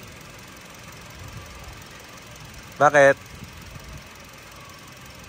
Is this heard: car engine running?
yes